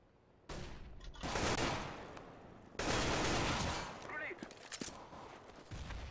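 Bursts of gunfire from the CS:GO video game, two long loud volleys of rapid shots separated by brief pauses, with scattered single shots afterward, while players shout over the game sound.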